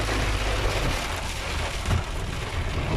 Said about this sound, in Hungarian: jó kis eső van, gazdag réten.